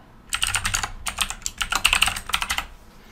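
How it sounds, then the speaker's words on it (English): An IP address being typed on a computer keyboard: rapid, close key clicks in several quick bursts separated by brief pauses, with no talking. "Then we type in the IP address for this."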